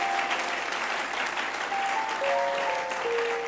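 A church congregation claps steadily and loudly, with a few cheers and whistles rising above the dense applause throughout.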